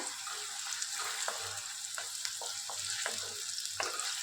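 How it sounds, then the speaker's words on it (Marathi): Chopped onion frying in a little hot oil while a spoon stirs it around the pan, giving a soft continuous sizzle broken by frequent light scrapes and taps, close by with no talking. "आता कांदा घालूया ह्याच्यात हलवून घेऊया"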